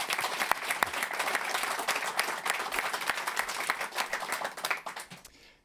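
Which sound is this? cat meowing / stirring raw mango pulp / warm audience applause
warm audience applause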